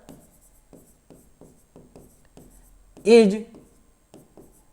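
Marker or chalk strokes scratch across a board in short repeated bursts, soft and close, with a brief spoken word cutting in during the writing.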